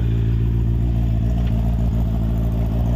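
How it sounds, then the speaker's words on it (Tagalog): A Honda PCX scooter engine idles up close with a steady low hum and a constant mechanical drone, no voices over it. "Ayan ang ating sasakyan, ang ating motor."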